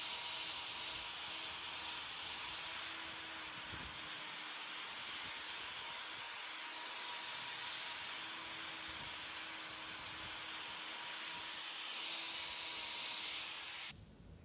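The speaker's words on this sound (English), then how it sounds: "we're going to continue to use that grinder, bringing that heel height down and removing some of these outer layers" A grinder trims the hoof horn, taking down heel height and outer layers on a hoof with a complicated white line problem. It makes a steady, faint hiss with a low hum that runs unbroken and stops abruptly at the end.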